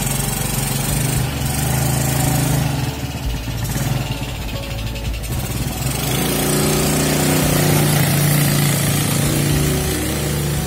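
A motorized tuk-tuk used for hauling scallion seedlings runs steadily for the whole clip, its continuous buzzing engine drone loud and close, with a brief change in tone partway through and no talk.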